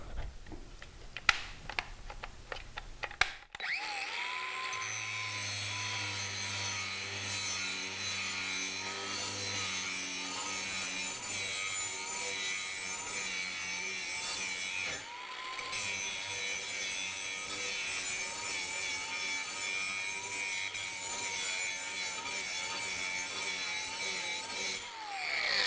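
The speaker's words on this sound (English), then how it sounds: "So we'll just do a little bit of grinding right here on this edge." Angle grinder grinding a metal edge on a piece clamped to a bench: a few scraping bursts, then a steady loud whine and rasp that holds for over twenty seconds, briefly dipping once.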